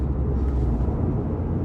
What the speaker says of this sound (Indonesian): itu suara di knalpotnya tuh kayak